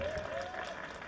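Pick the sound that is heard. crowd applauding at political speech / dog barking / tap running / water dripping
crowd applauding at political speech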